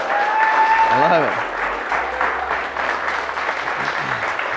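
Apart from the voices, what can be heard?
audience applause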